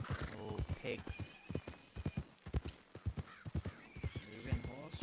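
Horse hooves clopping in a quick, uneven rhythm inside a video game, punctuated by loud neighing and whinnying calls, close and prominent.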